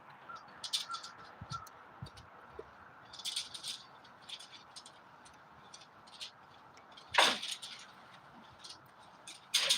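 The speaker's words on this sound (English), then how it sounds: "The fucking crows are right there." Crows cawing in a forest, scattered harsh rattling calls at a moderate distance, with one louder burst late on and another at the very end.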